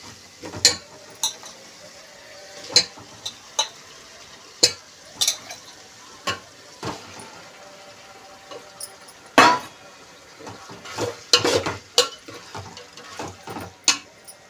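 Chicken pieces stirred in a curry pot with softened onion and tomato, the spoon giving repeated sharp scraping clinks against the metal at irregular intervals over a low frying background, up close, with no talking.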